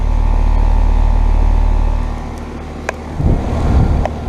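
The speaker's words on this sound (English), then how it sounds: "Yep, there's the compressor. I like the compressor sound." An outdoor Carrier heat pump running in cool mode gives a loud, deep steady hum from its compressor that drops away partway through, followed by a few low thumps and rumbles.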